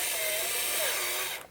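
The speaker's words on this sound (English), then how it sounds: "Yes, this is an electric screwdriver" Electric screwdriver driving a long screw into a 1967 Williams Blast Off bagatelle pinball machine during repair, a steady close whirring motor with a rising whine that cuts off abruptly near the end.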